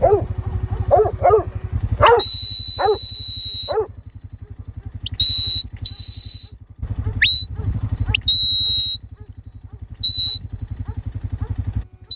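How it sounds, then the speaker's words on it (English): A farm dog barks repeatedly and loudly near a sheep race where lambs are being drenched, sharp yelps and barks in uneven bursts over a constant low engine-like rumble. "I don't know what that dog's doing."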